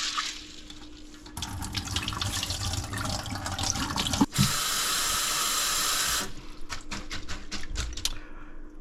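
Tap water runs into a kitchen sink while rinsing, a steady splashing stream with clattering and a louder gush midway, close and continuous.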